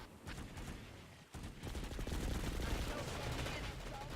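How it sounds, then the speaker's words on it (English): Gunfire in an online multiplayer video game match: dense, continuous bursts of rapid shots and fusillades, distant to mid-range, blending into a steady roar of battle noise. "I can hear gunfire over this side"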